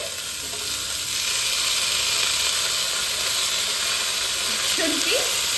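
Tomato, green chili and ginger sizzle in hot oil on low flame, a steady close, loud frying hiss throughout with a few faint stirring clinks near the end.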